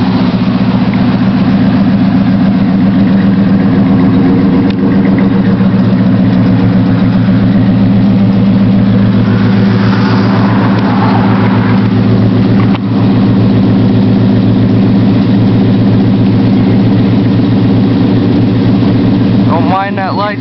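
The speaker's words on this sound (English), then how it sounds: "I'll let you guys listen to it idle" A 1977 Chevrolet C10 truck engine idling while warming up after a cold start, a loud, steady low rumble with an even pulse that runs close and continuous, with a brief voice near the end.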